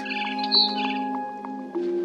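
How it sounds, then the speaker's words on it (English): A barn swallow in the video game What Remains of Edith Finch chirps in quick, bright repeated calls and short twittering notes over a steady tonal background. "It was a barn swallow going back to her nest."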